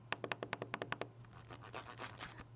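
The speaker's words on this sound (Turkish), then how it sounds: "Nobumuz da bu şekilde çalışıyor." An Ajazz AK820 Pro keyboard knob turns in a quick run of about eight crisp, evenly spaced clicks up close. Softer scraping and rustling follow, with no talk.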